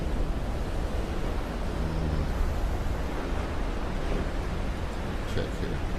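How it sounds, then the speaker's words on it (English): Regular waves crashing on the North Shore on a calm, lake-like day, a steady broad wash of surf with wind rumbling against the microphone. "regular waves crashing in on a lakeish kind of day on the North Shore"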